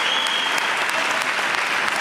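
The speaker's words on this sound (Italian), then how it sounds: "applaudito per questa terza prova" Loud, dense audience applause fills the hall at a Sardinian regional powerlifting championship, greeting a Master 1 lifter's third attempt with steady, sustained clapping throughout.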